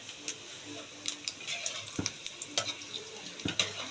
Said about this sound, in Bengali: অল্প আঁচের মধ্যে আমি ভেজে নিচ্ছি